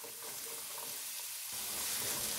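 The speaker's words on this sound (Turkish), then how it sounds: "Soğanlarım kavrulmaya başladı." Onions and finely chopped green beans fry in a pan on the stove, giving a dense, steady sizzle that grows slightly louder partway through, with no talking.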